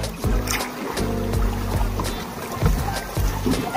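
Kayaks tied together move through lagoon water near El Nido, with repeated splashing paddle strokes and hollow knocks against the hulls at a steady rhythm, close by, under a constant watery background.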